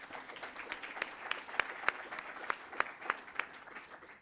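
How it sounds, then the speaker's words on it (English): Scattered applause at a Surrey economic development gathering, heard alone with individual claps standing out in an irregular, moderately distant patter. "Let's give them a great round of applause."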